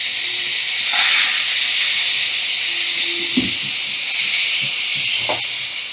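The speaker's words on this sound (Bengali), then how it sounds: "আমি এভাবে টুকরো করে কেটে রাখা লাউ দিয়ে দিচ্ছি।" Sliced bottle gourd pieces tumble into a hot pan, setting off a steady, fairly loud hiss and sizzle with a few soft thumps as the pieces land and settle.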